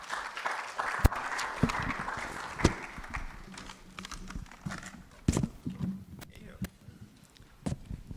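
Sparse clapping from a conference audience as a panel moderator is welcomed, the claps irregular and thin, with scattered sharp claps and voices heard in the room.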